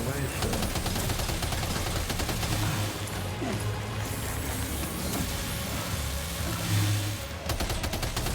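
Gunfire in the video game Death Stranding 2 rattles in dense, continuous loud bursts, layered with game noise throughout, with brief dips near the end.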